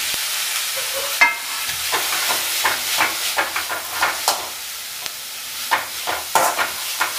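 Beans and carrots stirred and sautéed in a pan, with steady sizzling and repeated scraping strokes of a spoon in an irregular rhythm, close and clear with no talking.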